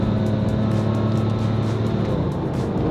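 A Porsche 911 997 Turbo engine drones loud and close with a steady low roar, and short airy turbo whooshes repeat over it in quick pulses.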